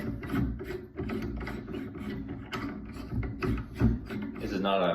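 A B&T SRBS bipod mount being screwed onto the bayonet lug of an M14/M1A rifle produces close, repeated metallic ratcheting clicks and scraping with a rough rhythm.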